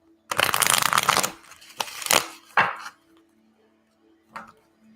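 Tarot cards are shuffled close up in a quiet late-night ASMR setting: one long riffling burst, then several short snaps and slaps of the deck, ending with a soft final tap against a faint steady hum.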